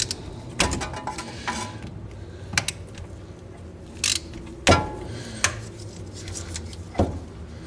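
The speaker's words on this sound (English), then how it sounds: "it just goes into a 17 millimeter socket and onto a 3 8 inch ratchet. And you just start spinning." A 3/8-inch ratchet with a 17 mm socket turns a piston tool on a rear disc brake caliper, giving clicky mechanical ratcheting bursts and a few sharp louder clacks against low background hum.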